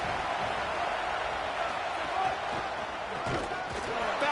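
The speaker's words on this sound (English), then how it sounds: "Listen to this crowd just shaking the girders of this place trying to help their defense" A packed college football stadium crowd roars for the Golden Bears defense, a broad sustained wall of cheering and noise with a few louder swells.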